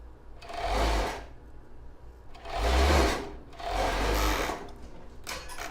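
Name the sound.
sewing machine sewing around a bra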